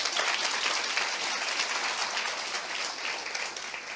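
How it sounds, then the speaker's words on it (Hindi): Audience clapping for Gaurang at a Hindi church gathering, a dense, loud wash of many hands that sustains evenly and starts to thin near the end, with no talking over it. "आई गौरंग के लिए ताली बजाएंगे"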